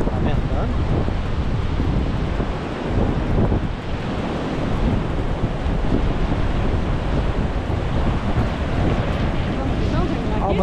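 Constant wind rush roars over the mic during a coastal bike ride along a beach, mixed with surf and distant voices, dense and unbroken throughout.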